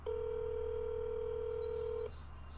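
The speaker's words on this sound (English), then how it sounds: "Let me call my son as well." A phone places a call to someone, sounding a single steady electronic tone for about two seconds before it cuts off to a faint background hum.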